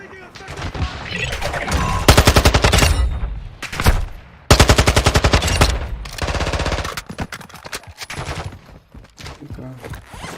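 Automatic gunfire from Call of Duty DMZ, several loud bursts of rapid shots with short pauses between them, mixed with other game sounds and occasional voices.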